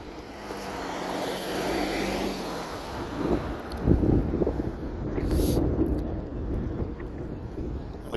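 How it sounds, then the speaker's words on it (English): An airplane coming in to land rumbles at a distance, heard from a moving vehicle on a road near El Paso, Texas, under strong wind buffeting and road noise. "Check out the airplane. Coming in for a landing."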